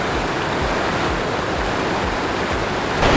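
A river at Bjorli, Norway rushes steadily close by, a dense broadband roar of flowing water with no voices.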